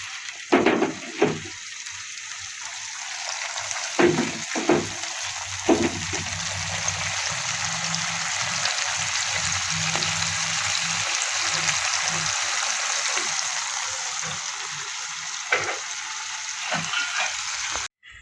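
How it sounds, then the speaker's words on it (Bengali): Bata fish fries in hot oil with a steady, loud hiss and crackle that fills the whole stretch, broken early on by a few sharp clattering knocks. "মাছটা তেলটা দিয়ে দিচ্ছি"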